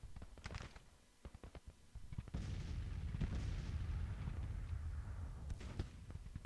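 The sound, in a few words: artillery firing in video game Grand Tactician: The Civil War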